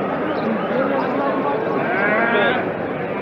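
At a busy livestock bazaar, sheep and lambs keep bleating in wavering cries over a steady crowd murmur, with people bargaining nearby throughout.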